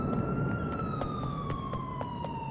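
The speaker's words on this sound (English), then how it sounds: "I hear sirens." A police siren wails in the video game GTA IV, its rising-and-falling tone sounding steadily over a rumbling background of traffic and engine noise, with no talk.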